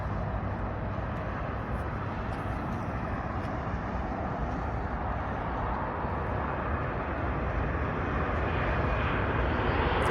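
An Airbus A320 airliner at Heathrow Airport gives a loud, continuous engine roar that stays steady and close throughout, with no talk over it.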